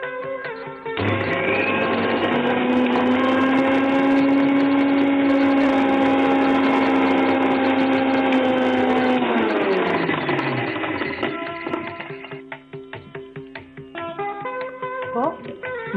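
A mixer grinder runs for about eleven seconds, grinding roasted dried red chillies with salt, its steady motor whine loud and close before it winds down and stops, followed by light clatter.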